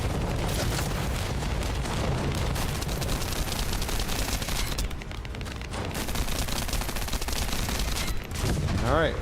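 Dense, loud gunfire fills the shooter game The First Descendant, with rapid automatic bursts and heavy booms layered into a constant barrage, briefly thinning midway before resuming under a faint voice.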